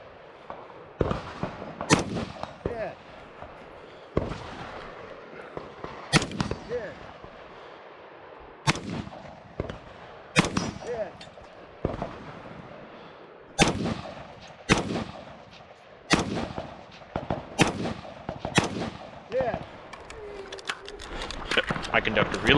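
Gunshots at steel targets in an outdoor multi-gun match at 50 and 100 yards, sharp loud cracks spaced a second or more apart over a quiet background, some followed by faint metallic rings, with no one talking.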